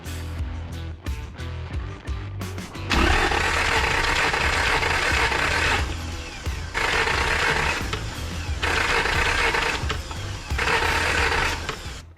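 Ratchet wrench setting valve lash on a cheap used Toyota truck: rapid clicking ratchet strokes at first, then loud buzzing, clattering mechanical bursts in several long spells, close up with no talk.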